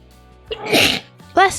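One loud sneeze right next to the microphone, with a short intake of breath before the sharp burst. A person starts speaking briefly just after it.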